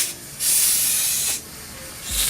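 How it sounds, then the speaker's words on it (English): CO2 gas leaks from an airsoft pistol magazine, hissing out in loud, steady bursts, a sharp spray sound that starts, cuts back briefly, then resumes near the listener. "Yeah, that doesn't sound good. Hear that leak?"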